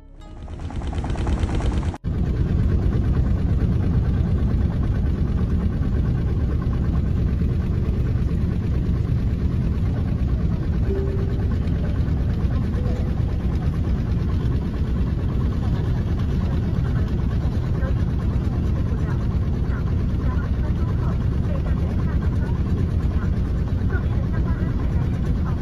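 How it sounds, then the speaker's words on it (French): A loud, constant roar with rapid rattling vibration of an airplane engine with a malfunctioning fan blade shaking the cabin violently, starting abruptly and continuing unbroken. "une des pales du ventilateur a mal fonctionné, provoquant de violentes secousses de l'avion"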